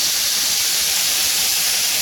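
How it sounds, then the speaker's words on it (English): Loud, steady steam hiss as water hits a hot George Foreman indoor grill, a continuous broadband rush with no talking. "Just gonna put a little water and watch out for that steam because you can burn yourself"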